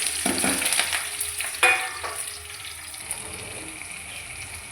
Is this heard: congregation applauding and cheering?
no